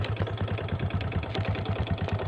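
A Honda Click scooter engine idles close by, a steady low pulsing chug with a fast regular throb throughout, fairly loud and alone with no voices.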